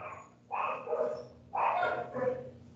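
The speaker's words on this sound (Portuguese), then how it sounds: "Os seus cachorros estão meio estressados hoje, João" Dogs in a home bark in two short bursts of several barks each, moderately close and picked up through an open microphone during an online class.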